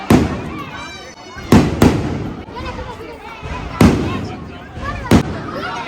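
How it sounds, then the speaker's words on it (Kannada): Firecrackers bursting outside a temple during darshan, several sharp loud cracks spaced a second or two apart, with crowd noise and talk continuing between the blasts. "ಸೊ ದರ್ಶನ ಮಾಡ್ಕೊಂಡು ಬಂದರೆ ಎಲ್ಲ ಪಟಾಕಿ ಎಲ್ಲ ಹೊಡಿತಿದ್ರು"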